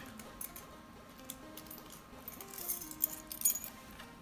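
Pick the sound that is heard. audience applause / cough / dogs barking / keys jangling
keys jangling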